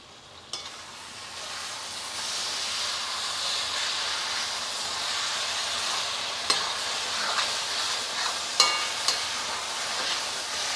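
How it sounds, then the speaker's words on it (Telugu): A home-cooked mushroom fry sizzles steadily in oil in a pan, a continuous bright hiss broken by a few sharp pops and stirring clinks. "ఇదిగోండి ఏగుతుంది, చూసారా ఎట్లా ఏగుతుందో."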